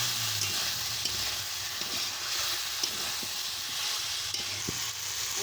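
Spinach and mixed vegetables for Bengali chorchori stir-fried in a pan, a steady close sizzle with scraping stirs and occasional clinks of the spatula against the pan.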